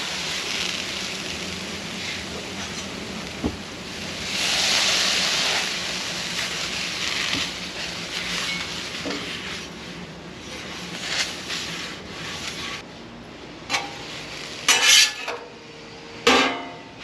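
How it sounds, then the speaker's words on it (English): Griddle being wiped down with a little water, giving a steady scraping and sizzling wash broken by a few sharp metallic clanks and taps near the end, close up with no talking. "First thing is just put a little water. Give the griddle a good wipe."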